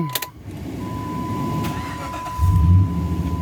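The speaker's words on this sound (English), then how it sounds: "I gotta turn this over." A 2006 Dodge Ram 2500 with a six-speed manual is cranked and started from inside the cab, giving a brief crank followed by a close, steady idle rumble with a faint tonal whine.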